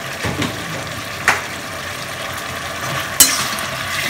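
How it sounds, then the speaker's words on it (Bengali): Chili sauce and fried pakoras sizzle steadily in a frying pan as they are stirred, a constant close frying hiss broken by a couple of sharp utensil clinks against the pan. "এখন সব ভালো করে এগুলোকে নাড়িয়ে নিচ্ছে"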